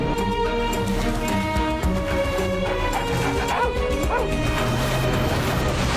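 A dog barks and yips in a dense, continuous mix of music and other sound, the barks only moderately clear and woven through the busy background.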